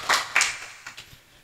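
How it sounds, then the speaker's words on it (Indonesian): A short burst of clapping from a small group at a documentary forum in Aceh, loud at first, then tapering into a few scattered claps that fade out. "Beri tepuk tangan untuk Wisnu."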